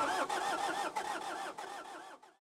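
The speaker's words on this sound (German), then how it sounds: "Ja, Auto haben wir nicht zum Starten gebracht" A car starter cranks on a weak, nearly flat battery at a campsite in Foum-Zguid, Morocco, grinding in a steady pulsing rhythm for about two seconds before fading out without the engine catching.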